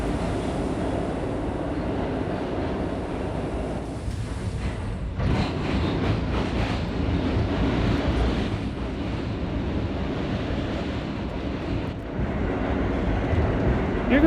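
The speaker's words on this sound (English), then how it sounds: "Yeah, that's the F train." R32 subway car on the F train running underground, a loud continuous roar and rattle of wheels on track throughout, with a brief dip in the middle.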